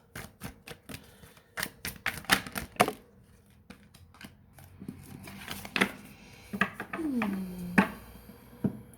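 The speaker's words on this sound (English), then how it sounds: "I'm just going to get you 3 more tarot cards." Tarot cards are drawn and laid out on a table in a series of crisp slaps, flicks and shuffling snaps, close and irregular, with a few sliding scrapes.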